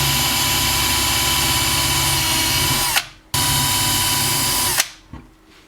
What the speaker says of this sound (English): it prevents me to drill through the entire thing